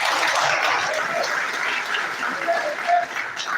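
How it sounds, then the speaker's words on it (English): An audience at a statistical science and data analytics conference claps, a steady, dense patter of many hands that fills the room without pause and rises slightly near the end. "Please, if you are clapping, clap again."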